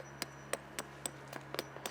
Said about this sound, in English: you just hammer that all the way in